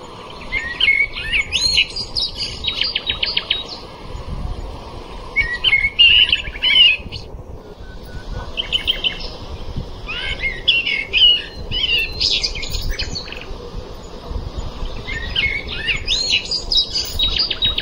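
Birds chirp and tweet in repeated bright bursts while rain falls steadily at a rainy campsite, the calls fairly close and clear over a constant wet hiss.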